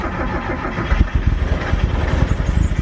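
A turbocharged Miata engine on a break-in run cranks and catches, then settles into a steady, close idle with a rapid, even pulsing beat and no voices.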